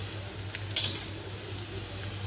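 Ginger paste and a little cumin paste sautéing in a pan, a soft, steady sizzle with a couple of brief scraping touches, quiet and close with no talking.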